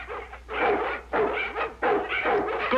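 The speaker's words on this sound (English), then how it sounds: "Who turned those dogs loose?" Several dogs barking loose outdoors, a series of loud, close barks in quick bursts of about four volleys.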